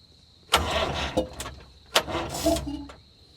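A 50-year-old International 6x6 army truck engine cranks in two short bursts of starter grinding, close by, with a brief sputter between them.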